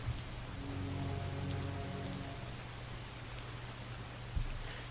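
Steady rain falls outdoors at night, a dense even hiss filling the whole stretch with a low hum beneath and one brief louder thump near the end; no one speaks.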